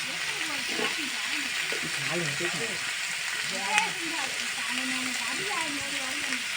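Rohu fish curry with spinach and spices sizzles steadily in a pan as it is stirred, with a single brief scrape, while a voice talks over the cooking.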